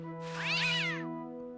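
A cat meows once in Day of the Tentacle Remastered, a single drawn-out, rising-and-falling meow over a steady game music drone, clear and close.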